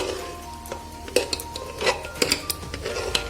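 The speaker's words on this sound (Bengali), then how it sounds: "আমি এই হাতা দিয়েই ডালটাকে আরেকটু স্ম্যাশ করে নিচ্ছি, আরেকটু ঘেটে নিচ্ছি" A metal ladle mashing cooked sona moong dal with vegetables in a pot: scattered clinks and knocks against the pot's sides and rim amid soft squelching stirring, close and fairly loud, irregular in rhythm.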